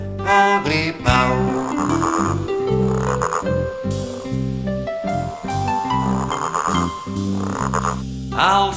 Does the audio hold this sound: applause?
no